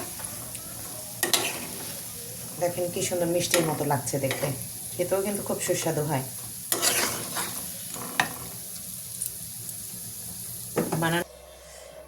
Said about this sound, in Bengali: এই যে ভাজা শুরু করে দিলাম পিঠা।